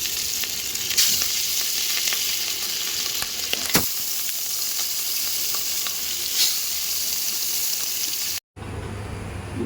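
Pangas fish frying in a little oil in a pan, a steady close sizzle and hiss with a few sharp crackles and spits, ending in a brief cut.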